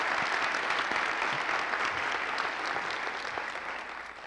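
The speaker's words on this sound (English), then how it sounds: "everybody give her an applause" Audience applause at a university event introducing a new president, sustained clapping from a large indoor crowd, steady and full for several seconds, tapering slightly at the end.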